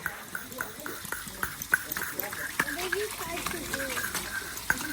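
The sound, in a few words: stirring aquarium gravel underwater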